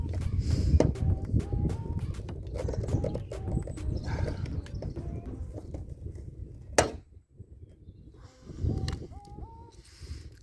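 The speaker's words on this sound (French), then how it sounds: "Je filme les chevaux aussi" Horses moving with irregular hoof clops and shuffling on hard ground, moderately close, while small bird chirps come and go in the background.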